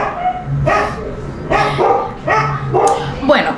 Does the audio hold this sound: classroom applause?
no